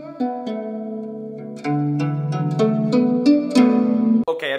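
A koto, the Japanese stringed instrument, is plucked in a short phrase of bright twanging notes, each ringing with a gentle bend, close and clear with no voices.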